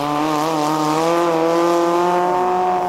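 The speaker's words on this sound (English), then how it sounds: "That's our car making its way past the checkpoint into the pits." A Baja 2000 off-road race car drives past a checkpoint into the pits, its engine droning loud and close with a steady rising-and-falling tonal whine throughout.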